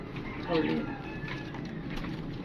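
Pigeons in a Lahore loft give a swell of throaty cooing early on, then keep up a soft background murmur while someone talks over them.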